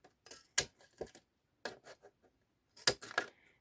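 A handheld paper punch cuts small slots in a card, producing several sharp clicks and crunches in uneven bursts separated by brief quiet gaps.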